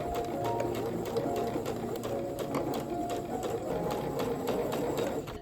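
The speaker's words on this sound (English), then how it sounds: "take it to the machine and sew directly on the line" A sewing machine stitches a straight seam through quilt fabric, a steady, close mechanical whir with rapid needle ticks and no breaks. A pigeon coos in the background.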